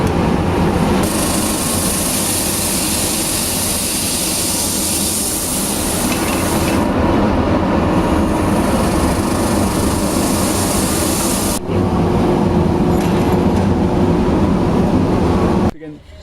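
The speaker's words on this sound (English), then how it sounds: "Well, we bring it over to the sander. Put it through this automatic sander." An automatic sander works wooden baseball bats in a bat-making shop, a loud, continuous rough grinding and rubbing roar with shifting texture and a brief dip near the end.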